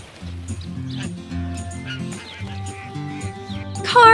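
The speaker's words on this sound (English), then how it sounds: "do you hear who's quacking?" Three rubber duckies quack in a children's cartoon about cars, with short cartoonish squeaks over a bouncy music bed and a louder burst at the end.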